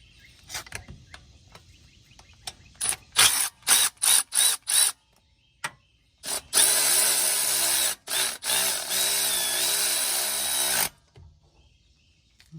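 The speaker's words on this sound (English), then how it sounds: "we're going to loosen up that tensioner bolt there" Power tool whirring in repeated short bursts and then a longer sustained run, loosening a 12mm tensioner bolt during timing component replacement on a 2007-2011 Kia/Hyundai 2.0 engine, close and loud with no talking.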